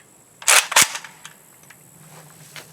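A malfunctioning AK rifle's bolt cycles into battery with two sharp, close metallic clacks in quick succession, followed by a few faint handling clicks and quiet room tone.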